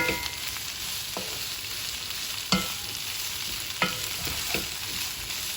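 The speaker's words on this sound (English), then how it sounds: "So both of the steak and the chicken, mix it all together with the vegetables so they thoroughly mix together." Steak, chicken and vegetables being stirred together in a hot frying pan, a continuous sizzle broken by several sharp spatula knocks against the pan.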